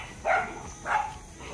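Two short dog barks, spaced about half a second apart, sharp and moderately close against a quiet background.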